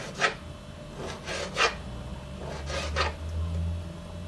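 Knife slicing food lengthwise into finger-thick strips on a cutting board, several short rasping cuts spaced about half a second apart, close and clear over a faint background hum.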